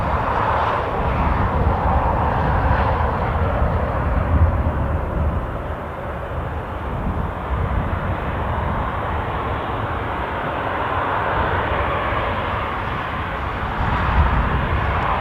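An Air France Hop Embraer 190 jet at Newcastle International airport gives a steady, broad engine roar that holds loud and even throughout, with no voices.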